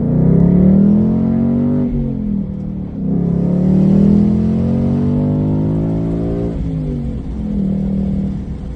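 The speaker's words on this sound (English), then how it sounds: "Let's listen to the exhaust." A 2023 Ford Mustang GT Premium's exhaust rumbles loudly and revs up in several rising, throaty surges, dropping back between each, close to the listener.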